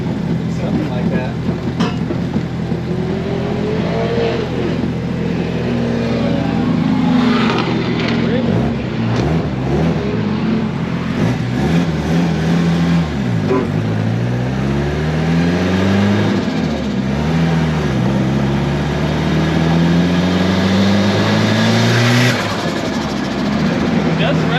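A Cosworth-engined car on a dyno revs up repeatedly in rising, falling sweeps, loud and close, with an engine drone underneath and people talking over it.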